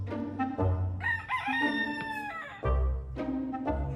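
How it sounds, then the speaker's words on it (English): A rooster crows loudly and close in Jamaica, a drawn-out call between bursts of clucking and squawking from nearby chickens. "Careful, the chickens are coming."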